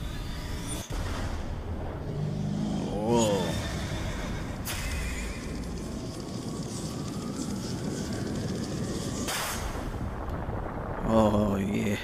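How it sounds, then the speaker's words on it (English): A horse neighs and whinnies twice in the Bioshock Infinite game, a drawn-out call early on and a shorter one near the end, over steady game ambience and background music. "Horsey."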